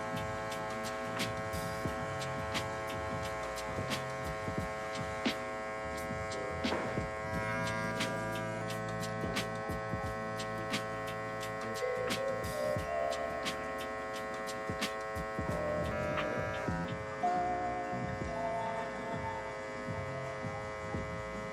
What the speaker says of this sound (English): Now using my edger to round off those corners.